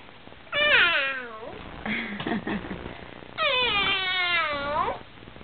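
A child gives two drawn-out, high meows imitating a kitten, separated by a brief bit of quieter sound, close and fairly loud.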